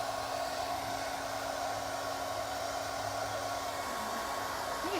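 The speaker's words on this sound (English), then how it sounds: "If you're not sure and you have your hair dryer out, you can just give it a quick going over." A hair dryer blows over a painted wooden sign, a steady constant whir and rushing airflow with a low hum, continuous and fairly close throughout.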